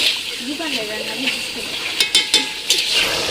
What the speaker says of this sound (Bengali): আমি এই মশলাটা কষাচ্ছি